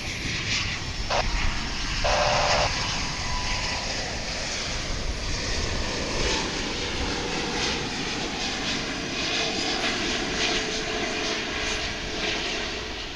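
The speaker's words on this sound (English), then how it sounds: "Here comes a flight from Honolulu. It's a 777, American Flight 102." An American Airlines Boeing 777 jet, a 1999 model arriving from Honolulu, roars at an airport with a loud sustained engine rumble and whine that swells and holds across the whole stretch, with no voices.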